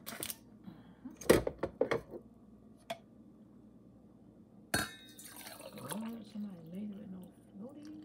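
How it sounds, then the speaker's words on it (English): Coffee is poured into a cup in a kitchen, a short splashing pour followed by clinks of a cup, close and moderately quiet, with a person talking and humming around it. "So I'm finna go here and pour my coffee."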